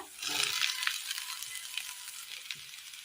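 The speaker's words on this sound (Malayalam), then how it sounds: "ഇതിലേക്ക് വാട്ടി വെച്ചിരിക്കുന്ന വെജിറ്റബിൾസ് ഇട്ട് കൊടുക്കാം. ഉടച്ചെടുത്ത ഉരുളക്കിഴങ്ങ്" Wilted vegetables and mashed potato tumble into frying masala for a masala ball curry, giving a soft, steady sizzle with faint scraping stirs, fairly quiet and close, no talk.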